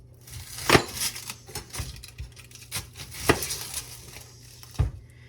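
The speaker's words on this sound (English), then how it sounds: "And you do want to cut your onion small." A knife chopping onion small on a cutting board, with irregular crisp taps and crunches spaced through the clip, close and fairly quiet.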